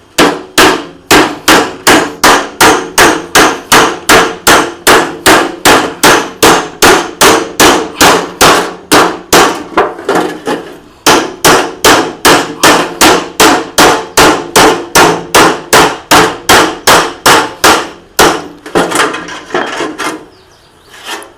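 An empty metal oil tin has its sides cut open with a hammer: a steady run of about forty sharp, ringing metallic blows at a brisk, even pace, close and loud, slowing into a few scattered knocks near the end.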